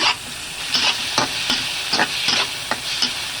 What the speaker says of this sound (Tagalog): stir fry lang muna natin yung ating balunan